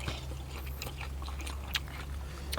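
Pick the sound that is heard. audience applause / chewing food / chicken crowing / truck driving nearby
chewing food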